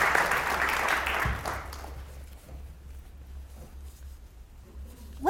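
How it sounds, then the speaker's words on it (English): Audience applause at a town hall event, loud and dense at the start, then fading over a few seconds into a quiet room with low background hum. "You can clap for them."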